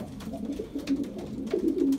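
A racing pigeon recovering after a 200-mile race coos softly and close, low throaty murmurs repeating over a faint steady background.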